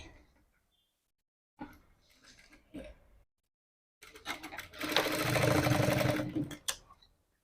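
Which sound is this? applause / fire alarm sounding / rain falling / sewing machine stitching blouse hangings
sewing machine stitching blouse hangings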